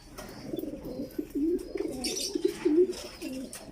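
Pigeons, among them African Black birds, coo in a series of low, rhythmic, throaty calls close by, with faint chirps in the background.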